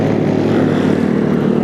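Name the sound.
motorcycles with loud open exhausts (knalpot brong)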